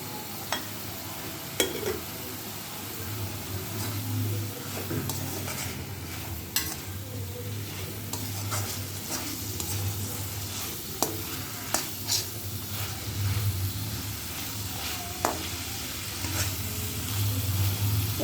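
Prawns sizzle steadily in a thick masala for a Bengali prawn malaikari as they are stir-fried, with a constant frying hiss broken by sharp clicks and scrapes of a spatula, and no one talking.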